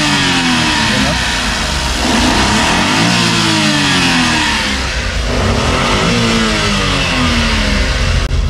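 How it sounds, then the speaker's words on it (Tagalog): Suzuki DA17V mini van's R06A 3-cylinder inline engine with VVT and timing chain revs up and down repeatedly, a loud, close, rising and falling engine tone with someone talking over it. "Yung makina natin is RO6E engine VVT 12 valve, naka timing chain na po ito mga call."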